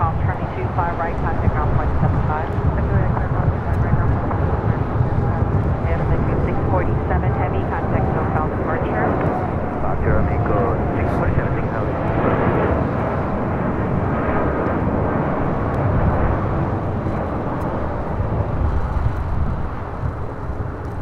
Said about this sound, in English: Aeromexico 647 taking off to Mexico City on a 787-8 Dreamliner